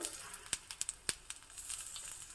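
Urad dal and cumin seeds sizzling in hot oil in a pan, a steady high crackle with several sharp pops in quick succession near the start, then a softer continuous fizz.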